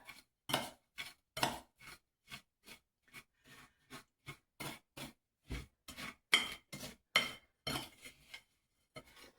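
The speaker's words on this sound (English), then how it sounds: "I'm going to mix this all up." Ingredients for chocolate, coconut and nut magic bars are stirred together in a bowl, giving a steady run of short clinking, scraping utensil strokes against the dish, close and moderately loud with no talking.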